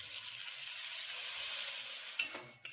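Whole green moong dal, boiled beforehand with salt, turmeric and chilli, goes into a hot pan with a little water. A faint steady sizzle hisses before a sharp splash and a second soft clunk.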